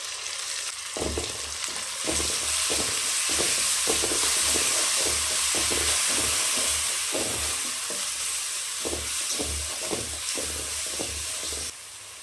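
Masala of ground shallots sizzling and frying in a pan for a Tamil country chicken fry, with a steady hiss broken by repeated scraping stir strokes throughout, close and fairly loud.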